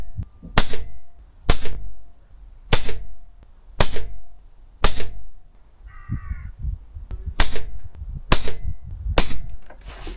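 Air rifles fire JTS Dead Center pellets, about nine sharp, close, loud cracks at fairly regular intervals, with a brief bird call between shots midway.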